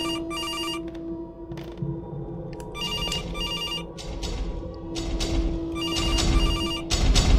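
A telephone rings repeatedly in a horror video game, its bursts of bright bell-like tones recurring in an uneven rhythm over a low steady hum and ambient game noise, fairly loud and with no talking.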